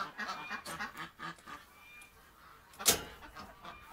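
Ducks quack in scattered bursts at a moderate distance inside a shed, with one louder, sharper call standing out near the end.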